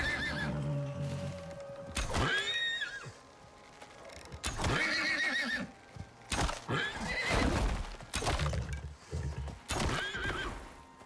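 A horse in the video game Icarus neighs several times in long, shrill whinnies, loud and close, with snorts and hoof clops between the calls.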